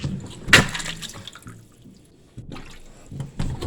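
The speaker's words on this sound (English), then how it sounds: "The sink pushed water back up through a backflow." Water gurgles and drips in a kitchen sink backing up while a dishwasher runs, with a sharp splash near the start and intermittent sloshing bursts, fairly quiet and close.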